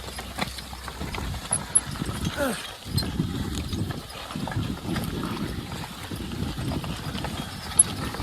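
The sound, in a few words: horses' hooves clip-clopping while plowing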